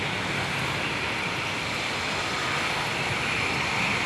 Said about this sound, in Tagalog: Antay natin hanggang lumipad yung malaking eroplano.